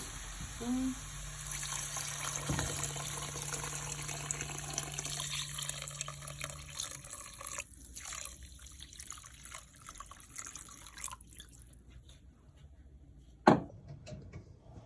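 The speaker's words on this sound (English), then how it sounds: "at this point, I'm gonna add the water to the vegetables." Water poured from a container into vegetables cooking in a pan for upma, a steady rushing splash that runs for several seconds, then stops, followed by a single sharp clunk near the end.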